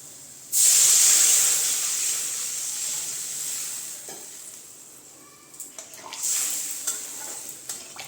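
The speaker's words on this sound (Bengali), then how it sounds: "এর মধ্যে আমি এখন দিয়ে দিচ্ছি জল" Water hits hot oil and fried spices for a curry with a sudden loud sizzling hiss that slowly fades, followed by a few spoon clinks and stirring sounds.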